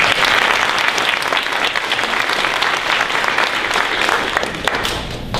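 Steady, dense applause fills a school board meeting as the room honors a sixth-grade student's third-place prepared speaking award, with no voices over it.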